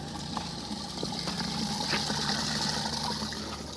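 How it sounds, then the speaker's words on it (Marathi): Water trickles steadily into a jar filled from a temple water tank, a continuous splashing flow with no talk. "इथे मंदिराची एक टाकी होती तिथलं पाणी भरतोय आपल्या जारमधलं पाणी संपलं होतं"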